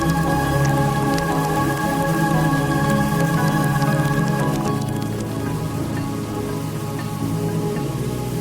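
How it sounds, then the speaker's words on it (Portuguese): Rain falls on volcanic mud in the Serengeti, a steady, dense patter and hiss running throughout with a sustained musical backdrop underneath. "a chuva agita a lama vulcânica"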